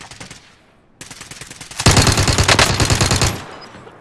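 Video game gunfire: a burst of sharp shots, then a dense, loud run of rapid automatic fire lasting over a second before cutting off, with no talk over it.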